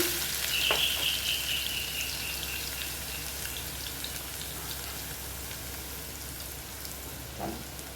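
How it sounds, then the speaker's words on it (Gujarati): A tablespoon of crushed garlic sizzling in hot oil in a pan, a dense steady crackle like light rain that stays close and loud, with a couple of brief clinks from stirring and no talk. "એમાં આપણે ક્રશ કરેલું લસણ એડ કરશું 1 ટેબલ સ્પૂન ફૂલ"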